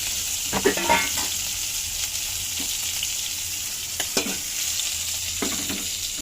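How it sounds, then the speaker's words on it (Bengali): Liver frying hard in a pan gives a loud, dense sizzle and bubbling, with a few quick scrapes of a stirring spoon close by. "ভাজা হয়ে গেছে, এগুলো বেশি ফুটফুট করে ফুটতেছে কলিজা"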